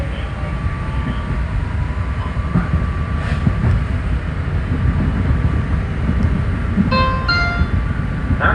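A PATCO rapid-transit train riding toward Franklin Square station in Philadelphia, a steady loud interior rumble of wheels on rails with a few brief squeals and clicks near the end.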